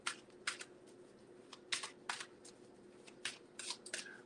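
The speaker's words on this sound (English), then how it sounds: "That's a fast shuffle." Tarot cards shuffled fast in a quiet room, a quick run of crisp riffling bursts, each a brief papery flutter, repeating irregularly with short gaps, fairly close and moderately soft, with no talk.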